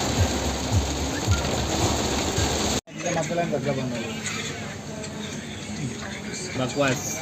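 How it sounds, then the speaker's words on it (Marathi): Torrential rain pounds a moving vehicle on the road, a thick steady hiss for a few seconds before cutting to excited talking with the rain still rushing underneath. "मुसळधार पाऊस. बापरे बाप,"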